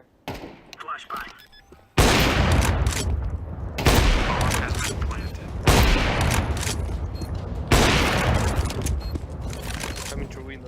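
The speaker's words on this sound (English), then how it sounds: "Flashbang" Four loud flashbang grenade blasts go off at roughly two-second intervals, each a sharp crack followed by a long, harsh, decaying roar. A voice can be heard.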